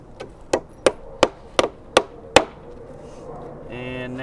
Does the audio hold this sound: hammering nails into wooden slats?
yes